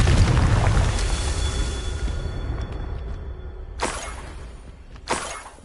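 A Confringo spell blast in Hogwarts Legacy on PS5 sounds as a loud rumbling burst that fades out slowly, followed by two shorter, sharper crackling impacts close by.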